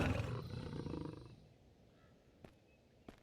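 A creature in the video game The Redress of Mira lets out a loud, close roar that fades within about a second and a half, followed by quiet with a couple of faint ticks.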